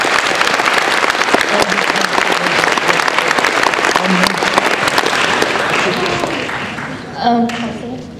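A high school audience at an anti-bullying assembly at Clear Lake High School breaks into loud, dense applause lasting about seven seconds, fading as a voice begins speaking at the end.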